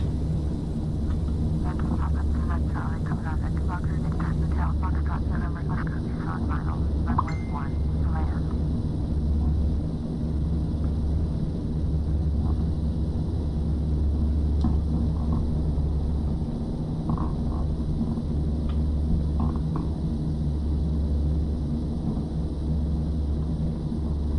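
A Carenado F50 turboprop airliner landing in the Prepar3D flight simulator, its engines droning in a steady loud rumble throughout, with cockpit clicks and switch sounds layered over it and a voice talking at times.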